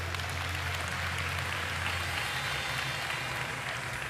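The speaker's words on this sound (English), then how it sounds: "let's give yesterday's winners one more round of applause" Applause for award winners at a political party federal congress, a dense, even roar of clapping from a large crowd, continuous and unbroken with a low hum beneath it.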